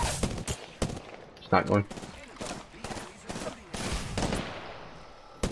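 Video game gunfire in rapid bursts and single cracks, loud and close, scattered across the moment while a player talks over it.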